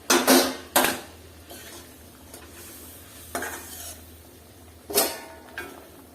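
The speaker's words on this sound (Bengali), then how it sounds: "ঝোলটা গরম হয়ে গেছে, এখন আমি পটলগুলো ছেড়ে দিয়েছি।" Pointed gourd (potol) simmers in hot gravy in a pan, a low bubbling sizzle punctuated by several loud metallic scrapes and clanks of a spoon stirring against the pan, no voices.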